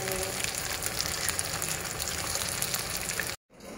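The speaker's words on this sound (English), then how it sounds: "Banana, deep fried banana." Banana pieces deep frying in reused oil make a dense, loud, steady sizzling crackle up close that cuts off abruptly near the end.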